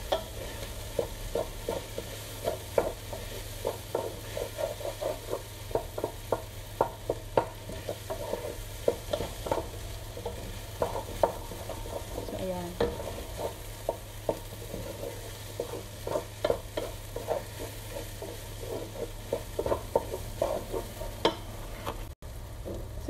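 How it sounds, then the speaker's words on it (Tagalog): Hot dog sausages sauté in a pan for sausage spaghetti, giving a steady close sizzle with frequent scraping stirs and light clicks of a utensil against the pan throughout, with no talking. "So, ngayon, ibigisa muna natin ang ating hot dog."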